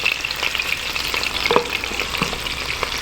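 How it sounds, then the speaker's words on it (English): Chopped onions saute in a pan with a steady, loud sizzle and frying crackle, joined by the occasional stir or scrape, and nobody talking. "Saute some onions. I chopped up about 1 onion."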